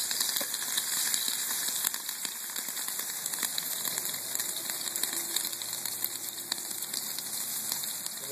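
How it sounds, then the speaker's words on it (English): Chicken wings seasoned with salt and pepper sizzle steadily on a smoker grill's grates, a dense continuous crackle with scattered pops that holds at an even level throughout, with no talking. "Now you can hear them sizzling."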